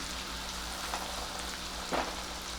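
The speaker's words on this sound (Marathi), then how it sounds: "त्याचबरोबर कांदा कांदा थोडा परतून घेऊया आपण" Onion being sautéed in a pan with cumin for pav bhaji, a soft, steady crackling sizzle with a couple of faint stirring knocks, fairly quiet and alone.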